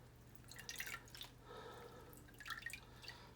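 Dyed doll clothes are rinsed under running water, giving faint splashes and dripping in short bursts against a low, steady background hum.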